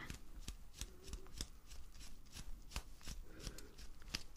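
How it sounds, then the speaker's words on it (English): A small scraper lightly flaking off bits of skin in a doctor roleplay, heard as soft, close, quiet scratchy strokes repeating irregularly at a brisk pace with no talking. "I'm just going to take this little scraper and just flake off a tiny little bit of the skin"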